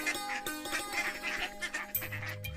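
Cartoon ducks quack by a pond, with repeated quacks in quick succession over a faint background and a low tone entering near the end.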